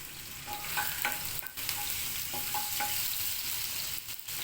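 Ginger-chili paste frying in two spoons of hot oil after onions have browned, a soft steady sizzle with light intermittent stirring clinks, fairly quiet and close.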